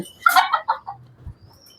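A chicken clucks a few times in a quick burst, close and clear, then quiet low murmurs follow.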